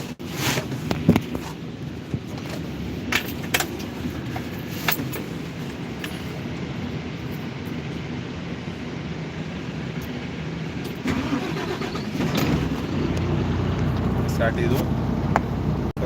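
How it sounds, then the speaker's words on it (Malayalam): A car starting up and pulling away after the hand brake is released: a low engine rumble runs throughout with scattered clicks and knocks, the motor growing louder toward the end while people talk over it. "ഹാൻഡ് ബ്രേക്ക് റിലീസ് ചെയ്തു വണ്ടി പോകുന്നുണ്ട്"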